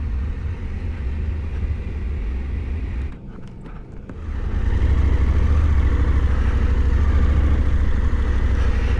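A Husqvarna Norden 901 motorcycle engine runs with a steady low rumble while riding. It dips briefly, then swells to a fuller, louder drone that holds to the end, with no speech.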